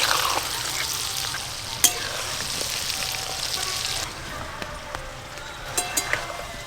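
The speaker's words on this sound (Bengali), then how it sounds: "বেশি আঁচ দিয়ে কিন্তু এই পকোড়া ভাজা যাবে না, অল্প আঁচেই ভাজতে হবে" Chicken pakoras, a crispy popcorn-style fried chicken snack, deep frying in oil over low heat, giving a steady close bubbling sizzle with occasional sharp crackles and pops.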